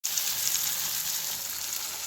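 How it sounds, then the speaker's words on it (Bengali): Garlic and chopped onion dropped into oil left from frying fish, a loud, steady, close sizzle that starts abruptly and holds for the whole span with no talk. "সব মাছগুলো ভেজে তুলে নিয়েছি ওই তেলটার মধ্যেই দিয়ে দেব রসুন আর পেঁয়াজ কুচি"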